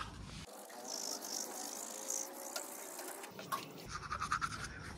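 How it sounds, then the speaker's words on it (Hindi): A toothbrush scrubs teeth close up in a steady rapid bristly scratching, brief pauses and a final series of quicker strokes, with no talking. "तो ब्रश करते हैं अभी"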